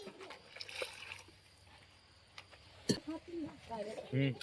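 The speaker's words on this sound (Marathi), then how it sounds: "मटनला पाणी टाका जरा" Hot water is poured and splashes into a pot of mutton curry cooking on a wood-fired stove, with a few sloshing and trickling sounds as people talk nearby.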